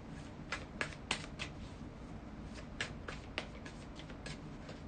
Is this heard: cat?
no